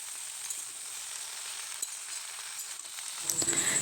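Mixed vegetables frying in a pan for a vegetarian five-vegetable curry give a steady, soft sizzle, and a denser, louder stirring burst comes in near the end.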